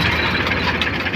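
A tractor engine runs steadily and loudly in a field of ajwain, a dense unbroken mid-to-low rumble throughout with no talk.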